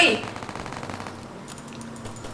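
Rapid automatic gunfire from the Roblox zombie game All of Us Are Dead, a dense burst of shots at the start that thins into lighter, scattered firing and game noise.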